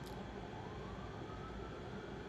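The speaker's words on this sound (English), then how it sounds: "listen to the sirens, listen to the noise, the honks" Sirens and honking horns from a busy street play back as a steady, dense wash of traffic noise with no voices.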